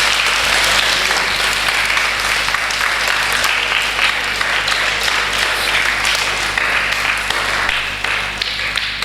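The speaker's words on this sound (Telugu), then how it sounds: "ఒకసారి గట్టిగా చప్పట్లమ్మా." An audience applauds children's Vedic chanting with loud, continuous clapping from many hands that holds steady throughout, with no voices standing out.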